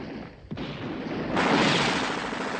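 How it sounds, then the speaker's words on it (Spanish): Machine guns and artillery fire in a Spanish Civil War battle at Brunete: a sharp crack near the start, then a dense, continuous roar of gunfire and booms that swells louder midway, with no talk over it. "Las ametralladoras advertidas cruzan implacablemente sus trayectorias en la lisa llanura sin abrigos."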